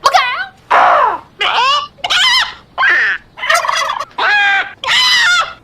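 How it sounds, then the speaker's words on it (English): Loud, close bird calls in a rapid series of separate bursts, warbling gobbles and squawks one after another with brief pauses between. "I'll admit I was torn which bird sound effect to put there, so I'll just play them all."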